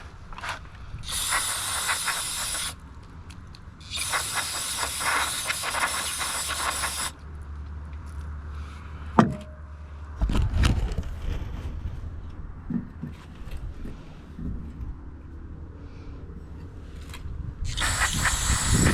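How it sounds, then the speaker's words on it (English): Aerosol cleaner sprayed into the carburetor bowl of an old barn-find Toro lawnmower, several long hissing bursts separated by pauses, with clanks and handling noises between them. "just give it a good spray."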